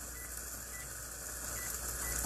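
A microwave oven runs while heating a cup of minute rice, giving off a steady, even hum with a faint electrical buzz and no pauses. Nobody speaks over it.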